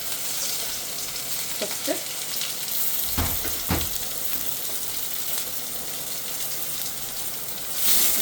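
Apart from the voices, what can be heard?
frying ginger, garlic and green chillies in a pan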